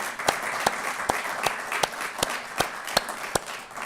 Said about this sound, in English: So you all deserve a big round of applause for that.